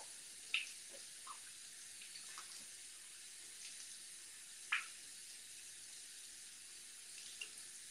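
Water from a tap runs as a steady, faint hiss while a face mask is rinsed off, with a few small splashes and drips rising above it.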